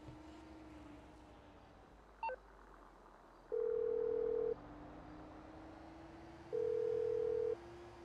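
Inside the GTA 5 video game, a phone line's steady low hum carries a single beep, followed by two long, loud ringback tones spaced a few seconds apart, with no one speaking.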